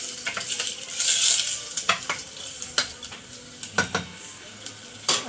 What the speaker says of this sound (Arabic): نشحر معكم شويه البصله